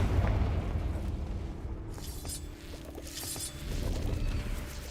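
The Confringo spell explodes in the wizarding video game Hogwarts Legacy with a deep, rumbling boom followed by crackling debris and a lingering low roar.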